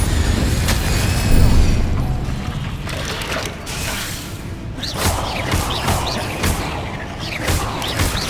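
A Bombarda spell goes off in Hogwarts Legacy after a spider fight, a heavy blast with rattling, crunching debris and clattering mechanical echoes, followed by sharper bursts of spell effects.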